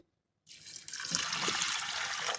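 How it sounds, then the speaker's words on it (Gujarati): Water pours steadily into a pressure cooker holding dal after a short silence, a continuous splashing stream that stays close and fairly loud. "હવે આપણે એમાં દોઢ ગ્લાસ જેટલું પાણી નાખીશું"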